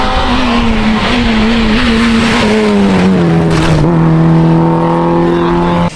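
Rally car arriving at speed on a rally stage, its engine wailing loudly as the revs climb and drop through gear changes, with some tyre squeal before the note settles.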